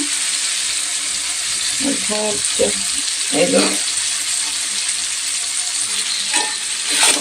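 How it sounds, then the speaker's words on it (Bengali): Mutton pieces tossed into fully sautéed spice masala in a home kitchen, a loud continuous hissing sizzle with a few scraping stirs and clinks in the middle. "পুরো মশলাটা আমার কষানো হয়ে গেছে তো এবার আমি মটনগুলো দিয়ে নিচ্ছি"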